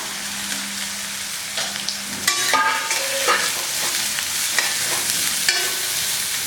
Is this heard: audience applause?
no